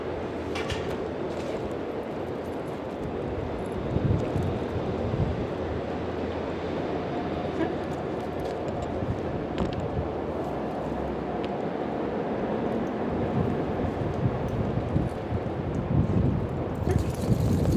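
Steady wind blows across an open outdoor area during a police K9 search exercise, a continuous low rumbling buffet on the microphone with brief louder gusts and no voices.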